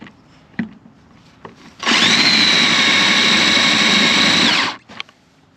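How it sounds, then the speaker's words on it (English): A power drill bores through a car frame part during body removal, a loud steady whine lasting about three seconds, with a few clicks and knocks before and after. "Let's see if we can drill this out a little more."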